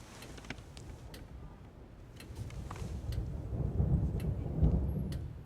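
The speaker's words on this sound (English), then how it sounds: "Here's a storm." Deep thunder from a thunderstorm swells into a heavy low rumble, with faint ticking clicks scattered over a steady background wash, no voices.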